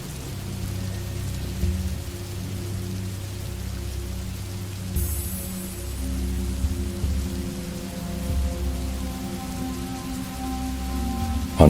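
Steady rain falling on a surface, a continuous dense hiss with a low rumble beneath, unbroken throughout and moderately loud, with no talking.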